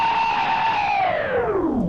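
A guitarist screams into his guitar pickup, turning his voice into a loud, heavily distorted, effects-laden wail that holds steady and then slides downward in pitch, continuous and alone.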